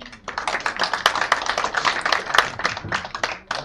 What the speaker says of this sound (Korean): 우리 이응로 교수님 뜨거운 박수로 안내해주세요